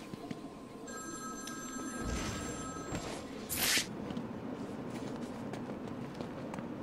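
Payphone ringing in Batman Arkham City, a thin electronic ring tone sounding faintly for a couple of seconds amid game ambience, footsteps and a brief whooshing burst.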